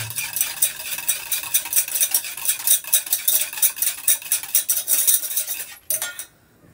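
Cake batter with vanilla essence whisked in a bowl: quick, rhythmic scraping and tapping of a utensil against the bowl, close and fairly loud, then stopping abruptly near the end.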